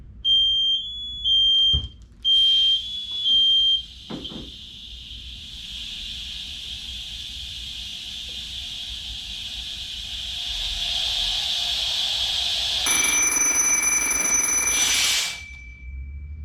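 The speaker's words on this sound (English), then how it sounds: "now we know that the low air alarm" An SCBA low-air alarm on a firefighter's breathing apparatus gives a few sharp high electronic beeps, then a long loud hiss as air bleeds off, with a shrill warbling alarm tone near the end before it cuts out.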